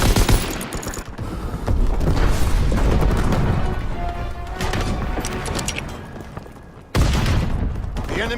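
An ammo supply blows up amid a first-person shooter battle, with booming blasts and rapid gunfire fusillades, loud and chaotic, broken by a brief drop-out before another heavy burst, and a voice speaking over it.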